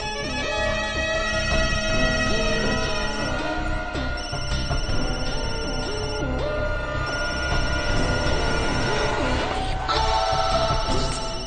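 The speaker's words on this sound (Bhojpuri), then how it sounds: "कब से फोन बजाता सुनता नहीं क्यों?" A telephone rings with a tonal, musical ringtone that repeats steadily and fairly loudly through the whole stretch, without pause.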